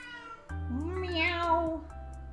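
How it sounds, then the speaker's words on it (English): A pet cat lets out one long, drawn-out meow close by, rising and falling over about a second and a half against a quiet indoor background. "He's meowing at you."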